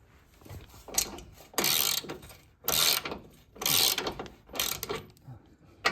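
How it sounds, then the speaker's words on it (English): A ratchet on a 1/2-inch drive with a 5-inch extension loosens the mounting bolts of a Ranch Hand bumper guard, giving about five close, loud bursts of rapid metallic clicking separated by short pauses. "We got it on a 1/2-inch drive with a 5-inch extension. We're gonna loosen these bolts."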